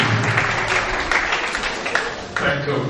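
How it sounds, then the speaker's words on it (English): A room of attendees at a bar association talk on exam malpractice gives a round of applause, with sustained clapping at steady volume and some voices mixed in beneath it. "let us give ourselves a round of applause once again"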